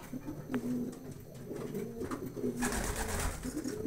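Pigeons coo softly nearby, low repeated calls over a faint background, with a rustle of wings or movement toward the end.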